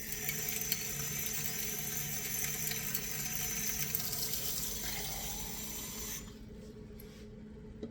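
Steady running water pours continuously into a bowl of bread dough for about six seconds, then cuts off, leaving a quieter, dull background.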